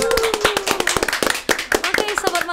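A small indoor audience at a campus podcast session claps steadily for a few seconds, dense and close, with a voice speaking over the applause.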